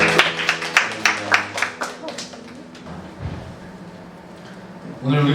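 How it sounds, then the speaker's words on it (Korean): Church congregation applause during a Sunday service: a burst of sharp claps in quick rhythm for about two seconds, fading into a quieter, scattered patter, then a voice begins speaking at the end. "우리를 이 자리에 부르신 하나님께 은혜의 박수 올려드리겠습니다."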